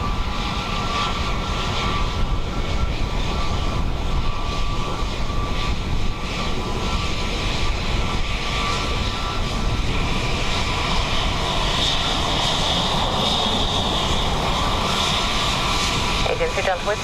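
A KLM airliner approaches runway 28 left at Dublin Airport on a windy day, its engine roar loud and continuous, with radio talk heard over it.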